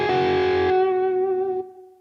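A distorted electric guitar note through a Headrush MX5 with a Cali76 compressor rings out and fades, trailed by a short, small-room reverb tail.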